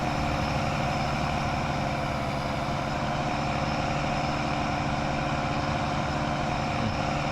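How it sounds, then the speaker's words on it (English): A Massey Ferguson 1155 tractor engine in Farming Simulator 19 drones at a steady idle-like rumble, loud and continuous with a low, even throb throughout. "We got a Massey Ferguson 1155."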